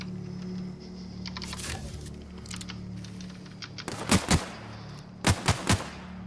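Gunfire in the sci-fi shooter game The Outer Worlds: scattered faint shots early, then two loud close bursts around the middle and three sharp, rapid shots near the end, over a low steady hum.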